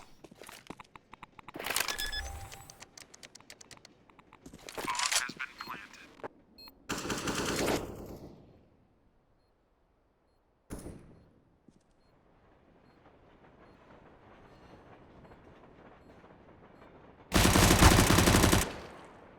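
Pistol fire rattles out in quick bursts during a Counter-Strike match on the Train map, several rapid clusters of shots with quieter gaps between them and one final loud flurry, under intermittent commentary.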